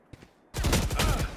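Rapid automatic gunfire in the shooter game Valorant bursts out after a short quiet lead-in with one faint click, a dense loud volley of shots lasting about a second.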